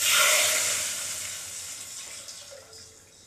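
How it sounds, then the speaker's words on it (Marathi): Grated coconut and cardamom hit hot ghee in a pan for rice kheer, a loud bright sizzle bursting at once and then gradually fading into a softer hiss. "आता आपण खोबऱ्याला चांगलं असं भाजून घेऊ"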